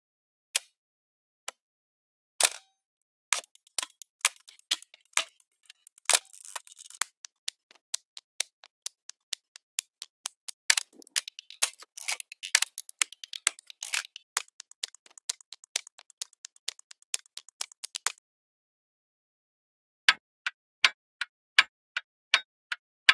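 Ticking rhythm samples from the Tempus library, dry clicks in straight and triplet patterns, sparse at first, then dense and quickening before a pause and a final run of evenly spaced ticks.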